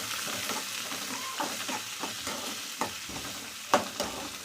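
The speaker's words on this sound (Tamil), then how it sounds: "அதையும் இதில் சேர்த்துட்டு நல்லா வெங்காயம் வணங்கட்டும்" Onions with curry leaves sautéing in a pan for a raw banana fry, a soft continuous sizzle broken by occasional spoon scrapes and taps, close and quiet.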